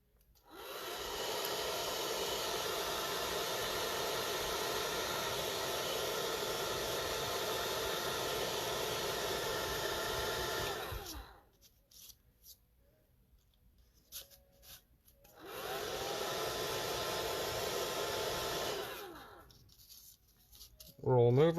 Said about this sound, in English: get the good old hair dryer going.